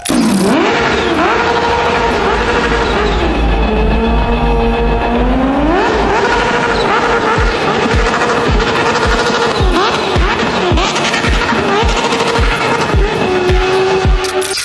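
A loud, high-pitched sports motorcycle engine revs hard, its pitch sweeping up and holding, then climbing again, close and unbroken.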